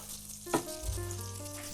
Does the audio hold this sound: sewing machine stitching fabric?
no